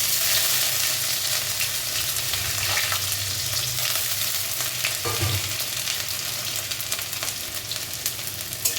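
Whole spices—dried red chilli, cinnamon bark, cardamom, clove, cumin—and ginger paste tempering in hot oil, giving a steady loud sizzle with a few sharper crackles and pops partway through, no voices.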